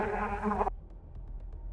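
A fly buzzes close and steady for under a second, a harmonic-rich drone that cuts off abruptly, leaving faint low background noise and a soft bump at the end.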